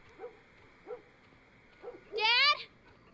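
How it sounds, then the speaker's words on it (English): Four short barks from a dog in the video game The Last of Us Part 1, fairly distant and spaced apart, followed by a brief high-pitched whine, over a quiet background hum. "Dogs are barking."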